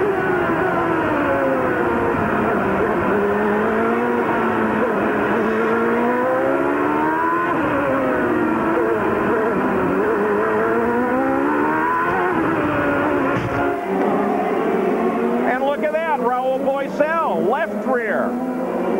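Onboard engine of a CART IndyCar race car at the 1995 Long Beach street race, a loud continuous high-pitched drone rising and falling through gear changes, with quick revving bursts near the end and a commentator talking over it.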